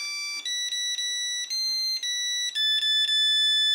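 A loud electronic alarm from an Owlet Smart Sock 2 baby monitor base station beeps in a rapid repeating pattern of high tones, stepping between pitches, close and insistent.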